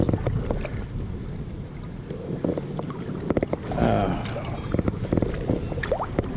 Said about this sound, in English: Keep on paddling.